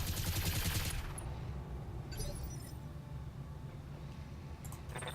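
Mech weapons firing in BattleTech: a dense rattling volley at the start, then a low rumbling battle bed with a few sharp metallic impacts and glassy crackles later on.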